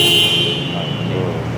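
A car horn sounds steadily against a noisy engine rumble, loud and close, with no speech over it.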